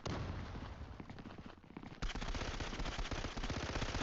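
Zula Mobile gunfire rattles in rapid automatic bursts, dense and continuous, with a brief lull before another loud volley resumes.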